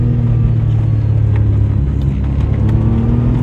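A Suzuki Cappuccino's small turbocharged engine pulls steadily, a close, loud continuous drone and rumble with a faint rising whine, heard alone for a few seconds.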